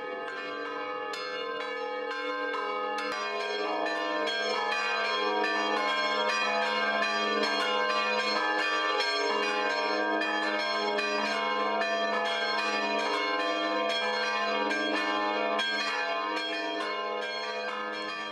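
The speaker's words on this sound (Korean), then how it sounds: "그 종탑의 종이 울립니다." Bells of an old Serbian Orthodox monastery church tower ring out in sustained, overlapping peals, rich and resonant, holding steady and loud for the full stretch with no voices.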